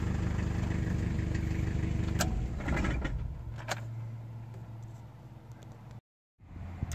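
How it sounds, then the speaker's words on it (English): A 1991 Toyota Liteace 4x4 camper truck's engine idles with a steady low rumble and mechanical clatter, then is switched off and cuts to silence near the end, followed by faint background noise. "So what I'm going to do now is turn off the engine"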